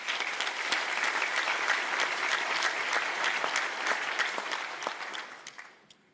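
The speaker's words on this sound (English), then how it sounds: "give those folks a round of applause" A luncheon crowd at a chamber of commerce event gives a round of applause for local officials, full and sustained clapping that holds steady and then fades out over the last second.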